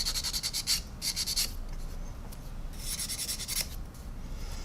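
A nail file rasps in quick back-and-forth strokes against a small engine part on a 1/8 scale Mustang model, faint and close, in short bursts with brief pauses.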